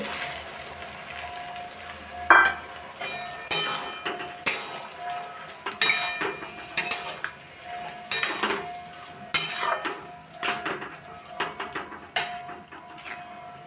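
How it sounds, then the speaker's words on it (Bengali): A spoon scrapes and clanks against a metal pan again and again as pressure-cooked boiled potatoes join peas for ghugni, making steady rhythmic stirring knocks over a low sizzle. "দিয়ে দিচ্ছি প্রেশার কুকারে সেদ্ধ করে রাখা কিছু আলু"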